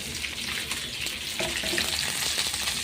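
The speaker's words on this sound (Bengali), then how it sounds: "এখানে কালো জিরা দিয়ে তেলটা বসিয়ে দিয়েছি। ভেন্ডিগুলোকে দিয়ে দিলাম" Okra pieces drop into hot oil with nigella seeds and fry with a dense, crackling, spitting sizzle that runs loud and close throughout, with a few utensil knocks and no speech.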